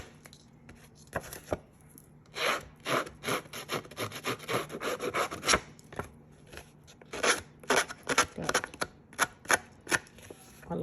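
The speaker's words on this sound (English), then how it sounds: "I'm going to grab my scissors. I'm just going to rough up the edges as well." Scissors roughing up paper edges make repeated sharp scraping and snipping strokes, close and irregular, in quick bursts with brief pauses between them.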